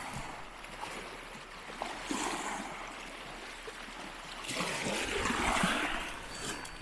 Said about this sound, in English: I want to end this video with a cool little creek that I found flowing through the beach.